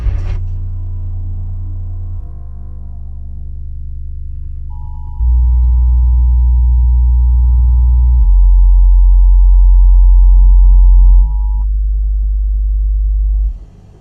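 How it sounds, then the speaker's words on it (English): Opening of Edge of Tomorrow, an infrasonic demo through a REL HT1205 mkII subwoofer: loud, sustained deep rumbling swells in slow stages, with a steady thin tone hovering over the middle before the rumble drops away. "kicking it off with the beginning of Edge of Tomorrow"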